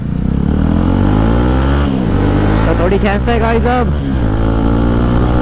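A motorcycle engine drones and revs loudly and steadily near a park in Delhi at night, while people talk over it.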